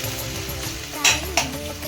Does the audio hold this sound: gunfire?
no